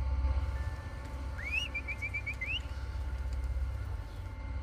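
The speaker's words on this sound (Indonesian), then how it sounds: "tiba-tiba saja si kakek bersiul memanggil sesuatu dari sana" A short, clear whistle rises and then trills in a quick series of notes, like a call to a dog, over a low rumbling background.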